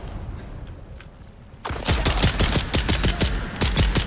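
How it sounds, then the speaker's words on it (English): Gunfire in Dune: Awakening: after a quieter stretch of ambient noise, a sudden loud close burst of rapid, sharply spaced shots rattles on steadily to the end. "Now who's shooting me?"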